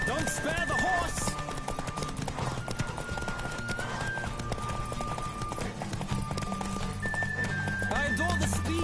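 A horse gallops hard during a race in The Witcher 3, steady pounding clip-clop beneath music, punctuated by whinnies and snorts while voices talk over it.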